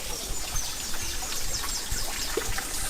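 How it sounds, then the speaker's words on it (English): A lion's head fountain spouts water in a tropical garden in Barbados, a continuous trickling splash heard at moderate distance, with faint bird calls scattered above it. "Another little vista there with lion's head spouting water."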